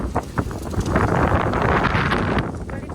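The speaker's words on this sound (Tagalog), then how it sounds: "Ganito kalakas yung hangin talaga dito sa Busan." Strong wind in Busan, South Korea, buffets the microphone in loud, roaring gusts, with a few scattered knocks at the start.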